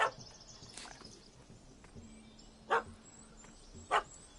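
A puppy in a PS4 video game gives several short, sharp yips, faint and scattered over low background game ambience with no talk.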